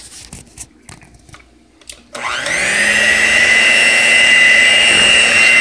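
An electric mixer blends butter, cream cheese and flour into frosting for a red velvet cake. A few soft knocks come first, then the motor starts with a sudden rise and runs as a loud, steady whir to the end.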